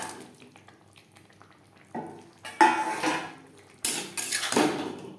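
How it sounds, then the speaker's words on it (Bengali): A spoon or spatula scrapes and clatters against a pan while fried pointed gourd (potol) is mixed with a yogurt spice paste; quiet wet stirring gives way to a few sharp, close metallic scrapes, with no talk. "মশলার সাথে পটল বেশ ভালো করে মিক্সড করে দেবো।"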